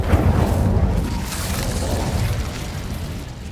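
A fiery Incendio spell cast in Hogwarts Legacy bursts out as a loud, rumbling whoosh that fades gradually into a roaring crackle over a few seconds.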